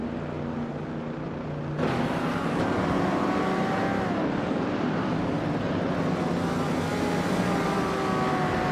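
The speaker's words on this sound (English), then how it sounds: "Bot Bean Streams is driving a 1967 Plymouth GTX." A 1967 Plymouth GTX race car in a racing video game roars steadily, its engine note climbing and shifting through gear changes, loud and continuous with no talk.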